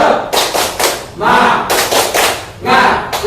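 A standing group of women claps hands in a patterned rhythm during a training session, with loud bursts of clapping separated by brief pauses and chanted voices mixed in.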